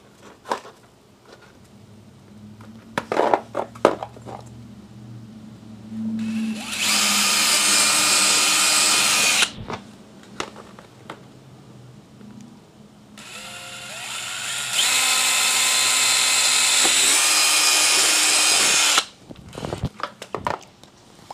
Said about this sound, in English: I'm going to take my drill.